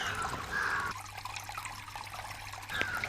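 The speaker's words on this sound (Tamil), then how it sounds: "நம்ம வாட்டர் ஃபவுண்டைன் சூப்பராக வேலை செய்யுது." Water trickles gently from a homemade thermocol tabletop fountain, a soft, steady dribble heard close up and quietly, with faint background hum and no talk.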